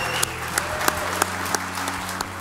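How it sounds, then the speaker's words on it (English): Crowd applause at a Tea Party political rally honoring a senator's lifetime of public service, a steady dense clapping with a few sharper claps standing out, heard alone over a low hum. "I ask each of you to join me in giving a round of applause to honor a lifetime of public service, Senator Dick Lugar."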